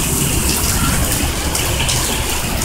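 Heavy rain and splashing water outdoors where a child is playing, a loud, continuous broadband rush with no pauses and no voices.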